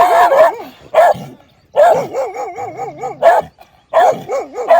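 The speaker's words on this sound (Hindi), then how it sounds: "ये कुत्तों के एरिया में मैं आ गया।" Several dogs bark loudly and close by near the Farishton wala darbar shrine in Muzaffargarh, firing off three clustered volleys of sharp, overlapping barks and yips with short pauses between them.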